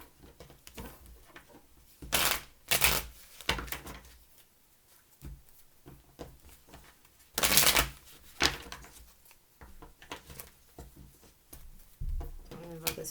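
Tarot cards being shuffled during a reading, with short bursts of riffling and flicking between softer handling noises and spoken voice.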